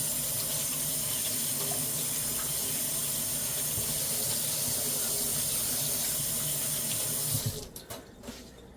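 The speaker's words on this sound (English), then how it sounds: "Let me wash my hands real quick." Water runs steadily from a kitchen tap over hands being washed, a continuous close hiss of flow and splashing that stops abruptly near the end.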